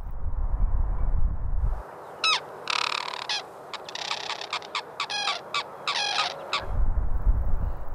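White-naped cranes that migrated 2,000 km from the Amur River in Russia to winter by a river with wide fields, giving a run of repeated, bright honking calls in the middle, with a low rumble before and after.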